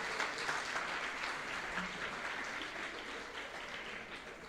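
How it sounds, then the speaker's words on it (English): Audience at an insurance brokers' conference in Mbarara, Uganda, applauding a platinum sponsor, Sanlam; steady, dense clapping from a large crowd that holds evenly throughout. "Can we clap for our platinum sponsor"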